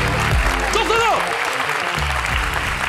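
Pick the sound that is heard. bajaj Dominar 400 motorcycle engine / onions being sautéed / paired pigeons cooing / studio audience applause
studio audience applause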